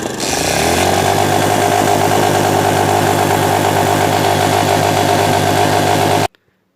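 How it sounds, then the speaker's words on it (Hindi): A TVS Star City motorcycle engine cranks and catches, then runs at a loud, steady idle close by before cutting off abruptly. "चलिए आपको स्टार्ट करके दिखाते हैं बाइक।"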